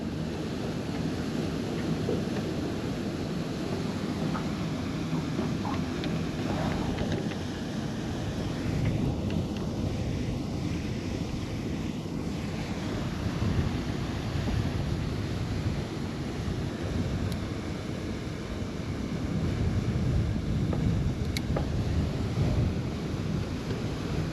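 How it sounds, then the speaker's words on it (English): Strong wind roars over a winter lake around a small fishing boat, a constant heavy rumble of gusts, buffeting and choppy water with no speech. "I get right here, the wind really picks up."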